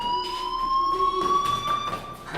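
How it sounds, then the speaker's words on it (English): A fire alarm rings steadily in the video game Life Is Strange, a sustained electronic tone with bright harmonics that holds loud and continuous across the whole stretch, with no voices over it. "do you hear that fire alarm?"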